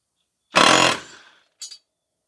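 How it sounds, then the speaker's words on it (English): Impact wrench in reverse pulling the blade nut off a John Deere commercial zero-turn mower: one loud half-second burst of hammering rattle that dies away, then a quick short second burst. "you're just going to get that impact wrench on there over that nut, and you put it in reverse and suck that nut right off there"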